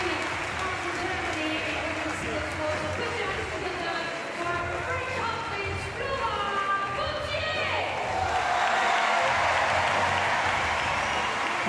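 Crowd applause rises at a wheelchair table tennis match, a steady patter of clapping with a commentator talking over it and the clapping swelling louder toward the end.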